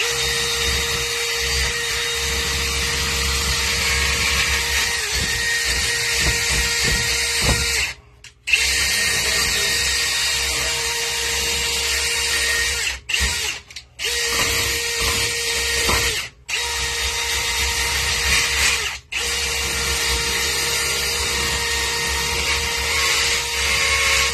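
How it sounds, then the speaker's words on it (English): A power drill whirring loudly and continuously, running forward and in reverse, stopping briefly a few times before spinning up again, with a steady high-pitched whine. "Reverse your drill, go back and forth, and forward, backwards"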